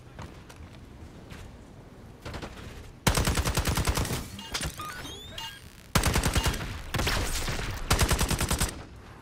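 Bursts of automatic gunfire in Call of Duty Black Ops 6, quieter scattered shots at first, then loud rapid volleys close by, broken by short pauses and sharp pinging impacts, with no talk.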